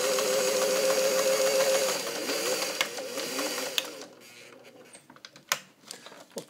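A vintage all-metal Singer 403 sewing machine stitching through garment leather, a steady humming motor run for a couple of seconds that then stops, leaving scattered mechanical clicks and handling knocks.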